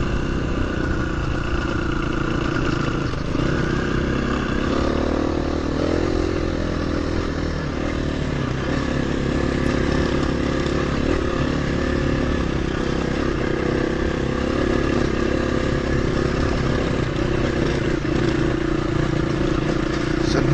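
A motorbike rides a slippery, stony, rutted green lane in Oxfordshire or Wiltshire and crosses water: the engine drones steadily and loudly throughout, with clattering and scraping over the rough ground.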